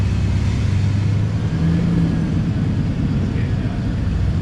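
Fuel-injected Ford Coyote V8 swapped into a 1986 Bullnose Ford truck idles steadily with a dense, continuous rumble, fairly loud and close.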